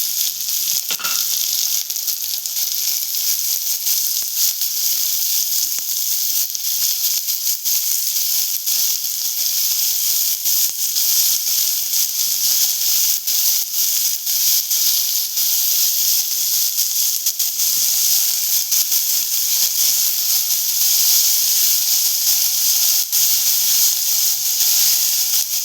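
Chopped onion and cumin seeds sizzle in hot oil as a steady, dense hiss, close and fairly loud, running unbroken for the whole stretch with no talking.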